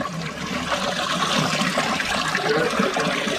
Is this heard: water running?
yes